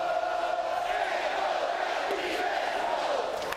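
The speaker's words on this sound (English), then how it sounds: "They are trying to get this crowd fired up" A college baseball crowd at a game against Florida State roars in a sustained, dense wash of cheering and yelling, steady and far-off throughout with no break.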